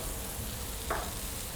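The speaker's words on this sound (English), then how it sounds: "You can hear them sizzling right here." Freshly fried handmade meatballs sizzle steadily and softly close by, a continuous fizzing crackle with one brief sharper pop partway through and no talking.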